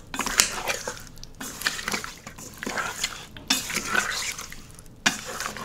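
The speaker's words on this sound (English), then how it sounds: "Once you get all your pork chopped up, just add it to the marinade and just mix it well." Chopped pork ribs being stirred into a black bean marinade in a bowl, giving close, wet clinking and squelching scrapes in uneven bursts with no talking.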